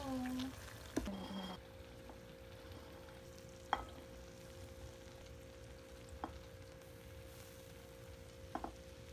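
Pork lumpia shanghai sizzle steadily in hot frying oil, a soft continuous crackle broken by a few sharp knocks and clinks from handling the pan.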